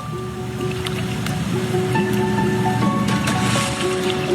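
An aircraft takes off on a summer day with a loud, sustained roar. Thin whining engine tones step and shift above it, and wind buffets the microphone throughout.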